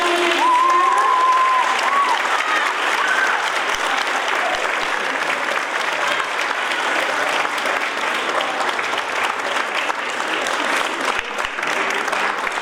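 Steady, full applause from a theatre audience after a black theatre act, sustained clapping throughout with faint crowd murmur and a brief whistle-like tone early on.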